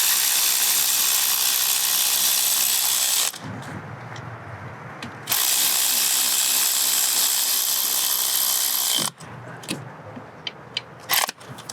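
A ratchet tightens 10 mm bolts on an aluminum transmission case of a 2009-2013 Audi A4 B8 CVT, with two long bursts of rapid, loud clicking separated by quieter clunks and handling noises, ending in a few sharp taps.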